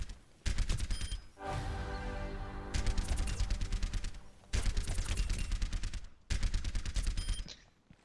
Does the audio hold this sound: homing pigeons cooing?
no